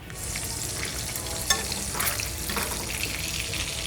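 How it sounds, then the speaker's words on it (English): Duck breast skin searing in a hot pan gives a dense, continuous close sizzle and crackle with a sharp pop midway, heard alone without talk. "all we need to do is flash it in a pan, crisp up the skin, flip it over"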